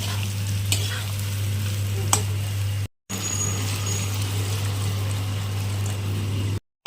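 Water goes into a hot pan of vegetarian curry, setting off a loud, steady sizzle and bubbling up close, with a low constant hum underneath and a brief break partway through.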